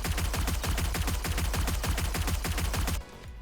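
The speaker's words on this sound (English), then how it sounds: "Let's fire off a little bit of fully automatic here." A video game gun fires fully automatic in one sustained burst of rapid, evenly spaced loud shots lasting about three seconds, then cuts off abruptly to quiet background.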